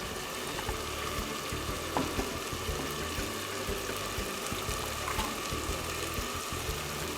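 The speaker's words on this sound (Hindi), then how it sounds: "इन सब चीज़ों को शामिल करके 4 से 5 मिनट तक फ्राई करें और टमाटर को गलने दें।" Tomatoes and spices fry in a pan for chicken kofta curry, a steady close sizzle with faint stirring clicks running throughout, no talk.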